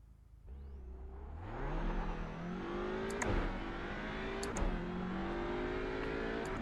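A TCR touring race car in the iRacing sim revs up from a standing start, the engine note climbing steadily through the gears with brief shift breaks, loud and close, no talk.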